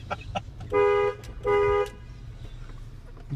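A car horn, rigged to sound with the left turn signal, blares two loud, sustained honks of under half a second each, separated by a short gap, over low road rumble inside the moving car.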